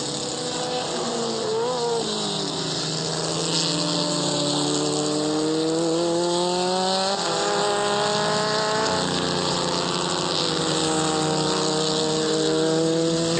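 A Spider prototype race car in a three-hour endurance race at Londrina, 2007, drones past with a loud engine whose pitch climbs and falls through gear changes, accompanied by other cars' engine noise.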